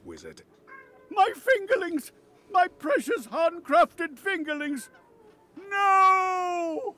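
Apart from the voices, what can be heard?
cat meowing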